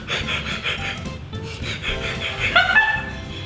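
A beatboxer imitates a dog with his voice, a close run of panting, yippy bark-like bursts and a short whimpering squeal near the end.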